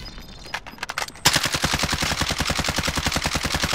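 Gunfire in the video game Apex Legends: a few scattered shots give way to a loud, sustained stream of rapid automatic fire with a steady, evenly spaced rhythm.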